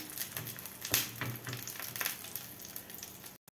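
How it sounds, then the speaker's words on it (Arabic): A potato hawawshi bread loaf fries in a pan with melted butter, giving close, crackling sizzles with a few sharp pops and scraping bursts, fairly quiet and unbroken by speech. "نحمر الرغيف بقى على جهتين تمام"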